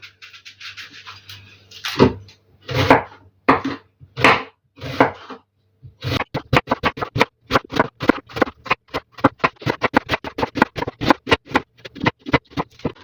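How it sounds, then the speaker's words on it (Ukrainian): Rapid knife chops on a cutting board thinly slicing an onion into quarter rings, a few slower cuts at first, then a steady fast rhythm of sharp close taps. "Її треба спочатку порізати чверть кільцями тоненько."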